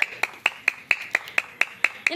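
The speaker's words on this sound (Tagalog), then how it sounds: "1, 2, 3, palakpak!" Hands clapping in an even rhythm, about ten sharp claps spaced a quarter second apart, close and distinct, with a voice rising at the end.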